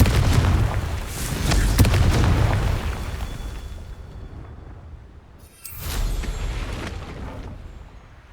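Confringo fire-spell explosions in the video game Hogwarts Legacy, heavy booming blasts that roll and rumble, one long burst fading before a second loud blast erupts, with no talking.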